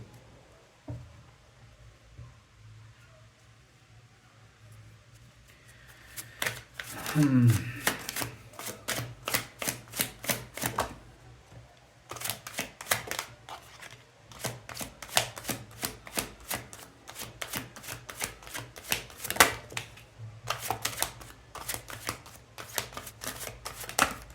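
Tarot cards are shuffled in repeated quick riffling bursts, crisp and close, with a soft voice under the first few seconds before the shuffling fills the rest.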